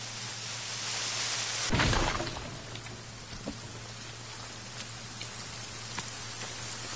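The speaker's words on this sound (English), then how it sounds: "you guys hear like the rain getting louder, loud as shit, right?" Rain in a forest video game, a steady hiss of downpour on surfaces that swells loudly with a sharp burst early on, then settles into a constant, fairly faint patter with occasional drop ticks.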